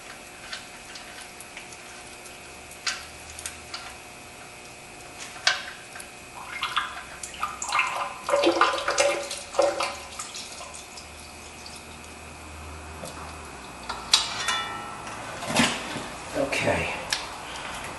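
Oil draining from a car's oil pan after a stripped drain bolt is removed, giving a soft trickle with irregular drips and small metallic ticks, close up and fairly quiet.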